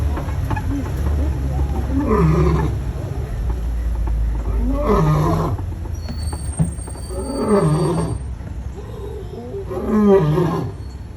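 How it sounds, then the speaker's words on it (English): A lion roars on safari, four deep, pulsing roaring bouts spaced a few seconds apart over steady low vehicle rumble, fairly close and loud. "Oh, lion got up over here."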